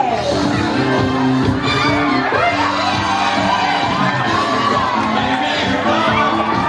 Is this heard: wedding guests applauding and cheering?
yes